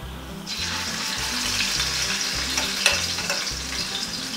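Loud, steady sizzling of chicken dropped into hot lard in a pan, crackling and spitting close by without pause.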